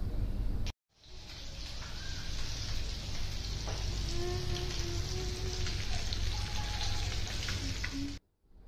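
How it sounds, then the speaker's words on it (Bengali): Fish frying in a pan in a home kitchen, a steady dense sizzling hiss that begins abruptly and cuts off just as suddenly, with faint chirping tones in the background. "এখানে আমি মাছ ভাজবো এখন"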